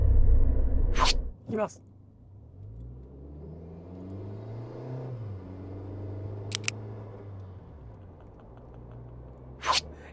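A Suzuki Jimny Sierra pulls away from a standstill to 40 km/h, its engine rising in pitch through the gears with audible shift dips. Someone speaks briefly at the start, and a few sharp clicks sound along the way.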